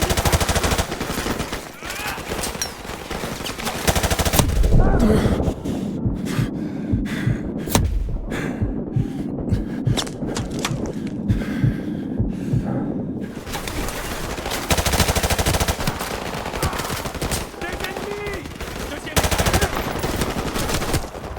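Machine gun fire in the video game Call of Duty Modern Warfare Remastered, dense sustained bursts of automatic shots, loud and close, with a brief thinner stretch of separate cracks before heavy firing resumes.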